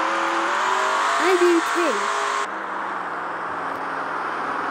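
Car engines rev in a Roblox racing video game, rising and falling in pitch in short sweeps, loud and close, while a person briefly speaks over them before the engine settles to a steadier drone.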